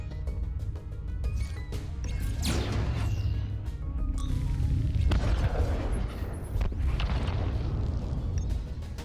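Missiles fire in the sci-fi roguelike deckbuilder Breachway, heavy booms and crashing blasts rolling over a constant low rumble, with a whooshing streak midway.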